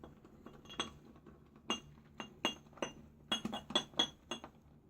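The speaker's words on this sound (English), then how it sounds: "Sorry about the clinking." Glass clinks repeatedly during shave lathering with a Fatip Grande razor and silvertip brush, about a dozen sharp, bright taps in irregular clusters, close and clear over a quiet background without talk.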